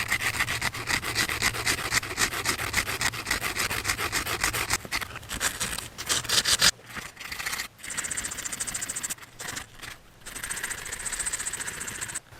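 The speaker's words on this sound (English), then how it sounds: "what I'm going to do is just try to sand this part down" A fishing hook is sanded down by hand in a steady, close, loud rasping rub with repeated strokes, pausing briefly and then resuming, with no talking.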